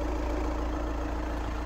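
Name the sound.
VW Tiguan engine idling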